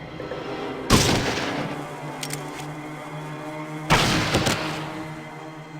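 Gunshots in Fallout 2 combat, two loud, close reports a few seconds apart, each with a short rumbling tail, over a faint steady background.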